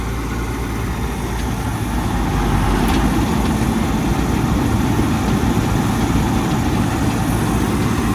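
A combine harvester's heavy engine runs steadily and loudly close by, a low rumbling drone that holds constant throughout with no voices.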